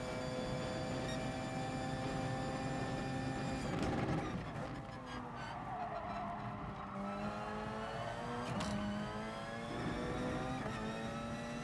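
A Porsche race car engine in GT Sport holds a steady high whine through the clip, with brief rises and dips around gear changes and some tire noise, loud and continuous, no voices.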